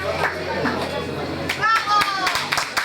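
Audience applause at a youth fashion show contest in Sibiu, with bursts of clapping rising in the second half over a presenter's voice and background chatter.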